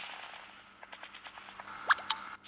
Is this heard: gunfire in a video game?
yes